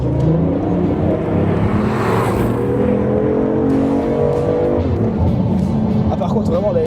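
A BMW i8 hybrid sports car accelerates hard from inside the cabin, its engine note droning and rising steadily, with a shift near the end, while people talk over it throughout.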